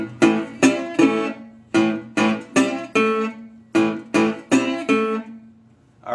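A Delta-blues slide guitar riff, thumbed on open strings: about eleven plucked notes in an uneven, loping rhythm, each decaying quickly. Close and clear, alone.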